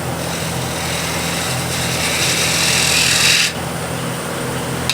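A lathe tool cuts a bead on a spinning walnut or cherry plate, giving a steady, loud hissing scrape over the hum of the machine that brightens toward the end and then abruptly softens as the cut stops.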